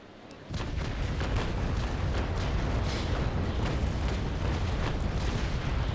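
Heavy naval cannon broadside from a sailing warship in the age-of-sail game Naval Action, a continuous loud rumble of many guns going off in quick succession after a brief quieter start, with sharp reports overlapping throughout.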